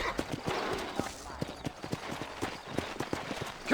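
Horse hooves clip-clop in a steady, quick rhythm as a rider travels on horseback in the Red Dead Redemption video game, the regular hoof strikes standing out over a continuous background bed with some voice sounds.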